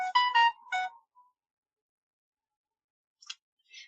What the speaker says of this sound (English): why have my phone started beeping?